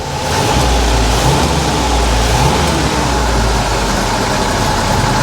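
Willys Jeep engine idles steadily after an exhaust manifold and gasket replacement, a loud, even low rumble heard up close with no exhaust hiss and no voices.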